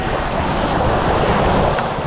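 Sea waves and wind roar in a dense, steady wash close to the microphone, loud and continuous throughout, with gusting wind noise on top and no voices.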